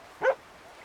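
A single short dog bark in the video game Red Dead, fairly faint against a quiet, low background hiss, with nothing else following.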